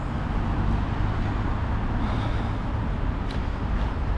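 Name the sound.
Monday morning road traffic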